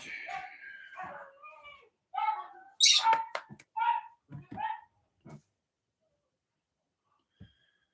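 Two pugs and a dachshund bark and yip indoors in a quick, uneven burst of sharp nearby barks and whimpers that grows louder in the middle, then trails off into silence with one last faint yip.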